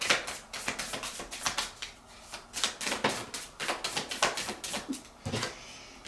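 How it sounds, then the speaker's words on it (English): Rapid, uneven riffling and slapping of tarot cards being shuffled close up, a steady flurry of crisp taps with brief pauses. "Nothing is letting me shuffle the way I want to."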